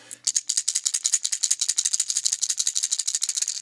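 A small hard rattle from a Daiwa Game Vibe fishing lure shaken rapidly and steadily, a dense bright clicking that continues without pause, close and fairly loud.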